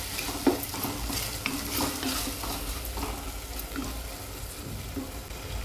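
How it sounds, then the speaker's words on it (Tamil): Vegetables sizzle gently in a pan over a slow flame for rava khichdi, with a spoon stirring and scraping in irregular strokes throughout. "ஸ்லோ ஃப்ளேமில் வச்சு வதக்கிப்போம்."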